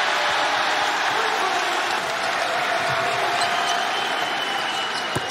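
Arena crowd noise at a 2022-23 ACC men's college basketball game between Louisville and Georgia Tech, a loud, steady roar of fans urging a player to shoot, with faint ball bounces and squeaks underneath.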